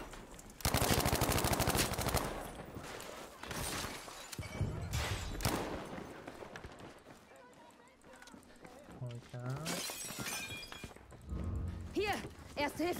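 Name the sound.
gunfire from a gun in video game Battlefield V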